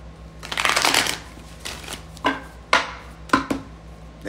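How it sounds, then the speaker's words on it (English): A tarot deck is shuffled by hand, a dense riffling burst followed by several sharp separate snaps and taps, close and clear with no talking. "Give me one more shuffle."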